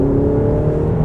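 Ferrari 488 Spider 70th Anniversary, a 2018 car with only 350 km on it, gives a steady, loud engine drone with a low rumble and a whirring tone, heard from inside while driving with no talk.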